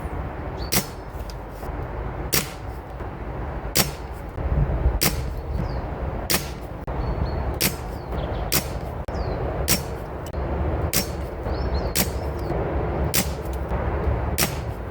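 A Reximex Ixia Compact PCP air rifle firing a full magazine through a chronograph, sharp distinct shots about every one to one and a half seconds, a dozen in a steady rhythm over a low background hum.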